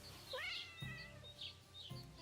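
A cat in Kingdom Come: Deliverance II meows inside a building, giving about three drawn-out, whiny meows in quick succession, close and clear with no talk.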